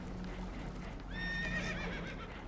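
A spooked horse gives a clear, wavering whinny rising over a low rumbling background, mid-distance and moderately loud, lasting about a second.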